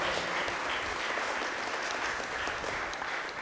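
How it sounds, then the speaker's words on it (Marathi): A congregation at a confirmation Mass in Our Lady of Mercy Church, Merces, claps together in sustained, even applause that fills the hall at moderate loudness and carries on steadily to the end. "आपण जोरदार टाळ्या वाजवून अभिनंदन करूया व आभार मानूया"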